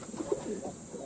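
Racing pigeons around a loft give a few soft, low coos, faint and brief against a steady background hiss, with no one talking.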